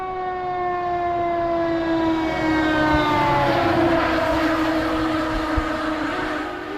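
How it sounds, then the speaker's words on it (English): Fire truck siren wailing on a city street at night, a long continuous rising and falling tone that sweeps steadily, loud and close, over steady traffic rumble with no talking. "Fire truck."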